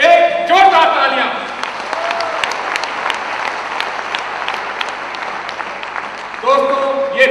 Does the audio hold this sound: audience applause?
yes